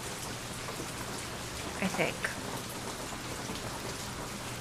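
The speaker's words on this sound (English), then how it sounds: "The rain is so loud." Steady rain in the video game Nancy Drew: Legend of the Crystal Skull, a constant broadband hiss filling the whole stretch with a brief spoken phrase over it midway.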